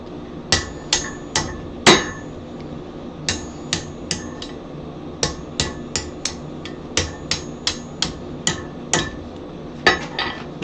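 Sharp metallic hammer blows ring out on a hot cutter while steel is nicked almost all the way through at a forge, about twenty strikes in irregular clusters, loud and close with no voices.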